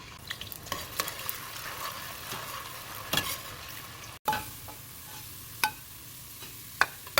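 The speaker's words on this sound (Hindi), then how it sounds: "यहाँ पर तेल गर्म हो चुका है और मैं अब इसमें गाजर पहले फ्राई कर लूँगी।" Carrots fry in hot oil for a vegetable and mutton biryani, giving a steady close sizzle with spoon stirs and scrapes tapping through it, one brief dropout midway, and no talking.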